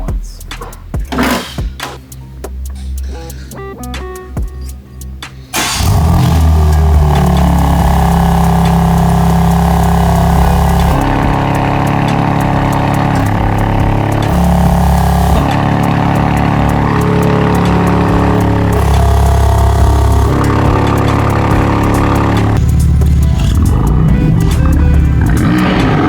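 A BMW G80 M3 fitted with a Milltek exhaust is revved hard, its loud, rough engine roar rising and holding at high revs for about twenty seconds after a few seconds of choppy idle and shuffling noise.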